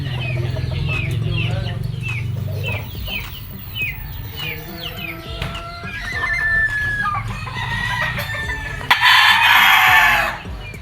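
Gamefowl roosters at a breeding station crowing and clucking, with repeated sharp calls and a loud burst near the end, close and clear, over low background rustle and light murmuring voices.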